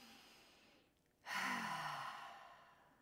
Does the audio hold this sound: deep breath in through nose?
yes